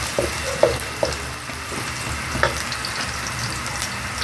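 Ginger frying in a home-cooking pan gives a steady, close sizzle with a few sharp pops and stirring clicks scattered through it, and no talking.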